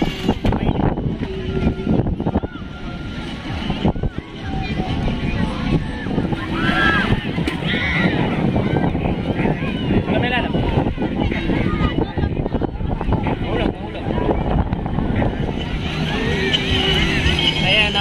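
A boat motor drones steadily and loudly throughout, mixed with heavy wind rumble, at sea. Indistinct voices sound faintly underneath.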